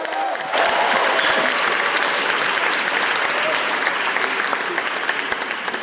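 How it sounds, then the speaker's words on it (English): A packed audience at the Castro Theatre in San Francisco claps loudly after a film screening, a dense sustained roar of applause that starts abruptly and carries on evenly with scattered louder claps. "So can we give a round of applause for that?"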